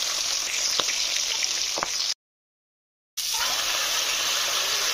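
Fish coated in salt and turmeric sizzles in hot oil in a wok, a steady close hiss with a few crackling pops, briefly cut to silence midway before resuming.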